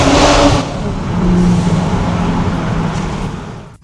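A Toyota Supra Mk5 engine with an MST aftermarket intake revs up and holds a throaty, rising drone, loud and close, fading slightly at the end.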